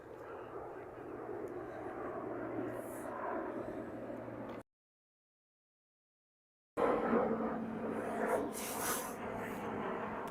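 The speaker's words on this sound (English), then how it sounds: "Apparently the way the wind is, the planes are coming in low." Low-flying airplane approaching a landing over a city street in Regina, a steady broad engine roar close overhead that drops out briefly and then returns.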